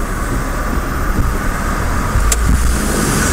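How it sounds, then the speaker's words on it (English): Steady engine rumble and road noise from cars idling and creeping in a traffic jam, a constant close drone with a brief sharp click partway through and no talk. "We've hit another traffic jam."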